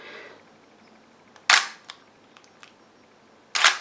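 Two sharp mechanical shutter clicks about two seconds apart from a Minolta 7000 series film camera set to a 2-second shutter speed, the first snapping open and the second closing, with faint small clicks in between.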